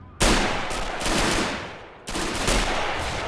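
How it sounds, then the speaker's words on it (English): Artillery firing in the WW2 strategy game Men of War: Assault Squad 2, two sharp, loud blasts about two seconds apart, each trailing off in a rumbling decay. "they were firing that artillery too"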